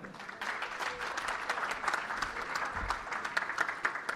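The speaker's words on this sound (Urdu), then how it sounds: "احمد عطا اللہ صاحب کو میں آپ کی تالیوں کی گونج میں بلانا چاہتا ہوں" An audience applauds steadily at an Urdu mushaira poetry gathering in Dallas, welcoming a poet to the stage. The dense, even clapping carries from start to finish, with no talk over it.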